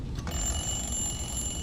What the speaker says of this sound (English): So you can use that alarm to kind of lure people.